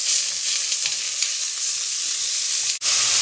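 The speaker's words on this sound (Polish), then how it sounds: "Cebulka mi się troszkę podsmażyła, więc wrzucam mielone mięso." Ground beef steak frying with softened onion in olive oil, a steady dense sizzle and crackle that holds loud and unbroken, with a brief dip near the end.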